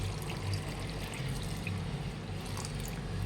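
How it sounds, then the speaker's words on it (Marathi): Drinking water pours steadily into a bowl of sago, a soft continuous splashing with faint drips, fairly quiet and close. "आता याच्यात प्यायचं पाणी आपण टाकतोय"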